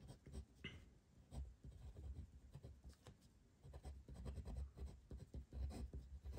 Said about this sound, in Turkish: Ebu Hanife kalemde yazmakta zorlanıyor bu durumda